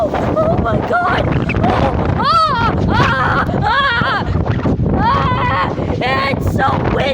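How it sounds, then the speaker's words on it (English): Strong wind gusts roar and buffet the microphone during a windstorm, loud and continuous, while people shout and exclaim over it throughout. "It's so windy!"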